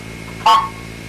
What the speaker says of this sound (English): The digit 3 is composed of a 900 Hz and an 1100 Hz tone.